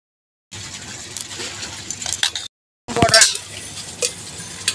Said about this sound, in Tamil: மாவு அரைச்சிட்டு வந்தாச்சு. கரண்டி போட்டு கலக்கி விட்டு